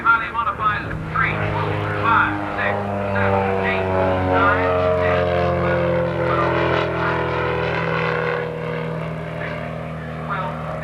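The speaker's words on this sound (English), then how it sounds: "Craig Hosking from Los Angeles, California, a movie stunt pilot when he's not flying air shows, which he's doing for us right now" A stunt plane performing aerobatics at the 1987 Confederate Air Force airshow in Harlingen drones steadily with a shifting, whining engine pitch, heard from a distance beneath a public-address commentator.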